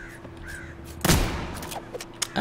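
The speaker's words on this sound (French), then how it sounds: "on peut pas tuer les corbeaux dans celui-là." Crows cawing in the Vermintide 2 video game, a few harsh caws over a low ambient hum, with a louder burst of game noise midway.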